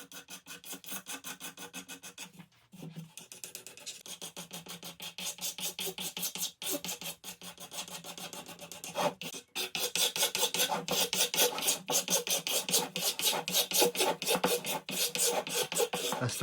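Sandpaper rasps back and forth along the edge of a wooden stave drum shell near the grommet hole, close repeated scratchy strokes that grow faster and louder toward the end.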